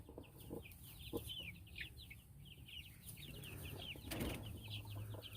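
Freedom Ranger chickens cluck in a quick, busy chatter at a farm, many overlapping calls close by and fairly faint, with soft rustling and a brief flutter of wings.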